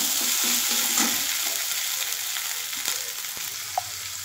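Cumin powder and spices fry in oil in a pan with a steady, close sizzle and a few light stirring clicks, no voices.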